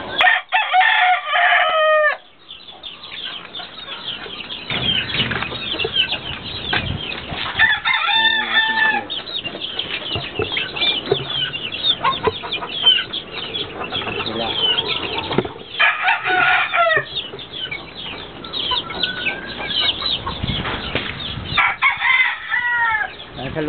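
Fighting roosters in their cages crow loudly several times and cluck, with wings flapping close by, while someone talks over them in between.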